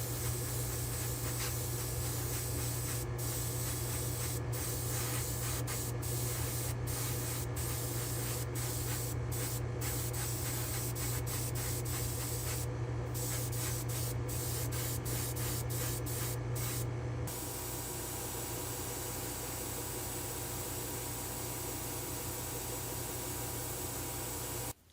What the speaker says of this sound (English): Let me head back to the spray booth and we'll try a little semi-gloss on these wheels